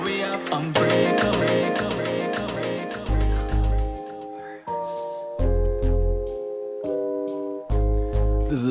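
A song playing, with a full band, bass and vocals, and strong rhythmic low-end beats pulsing across the passage.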